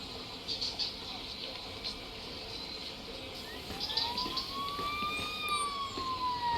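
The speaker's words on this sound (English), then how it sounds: "ambulance is here" An ambulance siren in the Police Simulator: Patrol Officers game rises and holds as a clear wailing tone from about midway. It sounds fairly distant against steady insect-like chirping and faint background ambience.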